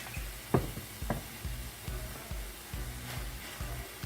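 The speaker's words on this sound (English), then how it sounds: "I'm gonna go ahead and add my cabbage to this saltfish" Cabbage hitting a hot pan of saltfish, with a low steady sizzle and a few clunks of a spoon stirring and mixing through the pan, close and fairly quiet.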